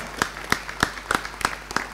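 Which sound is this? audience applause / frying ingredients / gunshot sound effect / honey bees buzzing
audience applause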